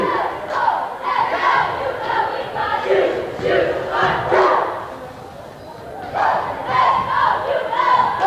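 Cheerleading squads yell and chant at a boys' basketball game, a loud crowd of voices rising and falling in bursts across the gym, with the Northeastern Clinton Central Cougars' squad among them.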